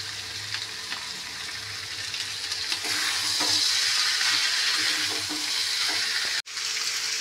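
Chopped garlic and ginger, added over chopped onion, fry in a pan with a steady, close sizzle that grows slightly louder midway, broken by faint stirring scrapes and one brief dropout near the end.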